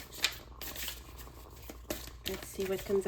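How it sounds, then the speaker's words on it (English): Oracle cards being shuffled by hand, a run of quick soft riffling and flicking bursts, close and fairly quiet, with a person speaking over it. "I'm first going to start shuffling for an oracle card on camera."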